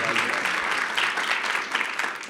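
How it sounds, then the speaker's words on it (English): An audience at a basketball panel gives Orlando Antigua a short burst of brisk, close clapping that continues evenly for a couple of seconds. "A round of applause for Orlando."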